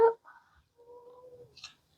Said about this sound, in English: That's my cat meowing for confirmation.